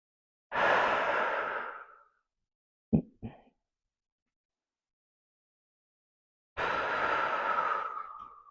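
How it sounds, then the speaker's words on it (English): Deep breathing during a core workout: a long, loud exhale, a brief pair of quick sniffing inhales, then another long heavy exhale, close and isolated in silence. "Let's start with some deep breathing"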